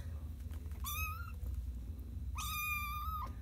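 A cat gives two clear meows, close up. The first is shorter and the second is longer and drawn out, heard over a low background hum.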